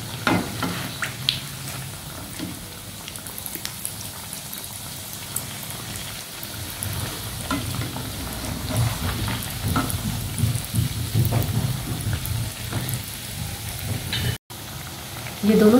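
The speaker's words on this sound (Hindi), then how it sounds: "ये दोनों साइड से फ्राई हो गए हैं, इनको निकाल लेते हैं।" Food frying in a pan and being flipped over, a soft continuous sizzle with occasional scraping and light clatter, steady and fairly close, with faint room noise.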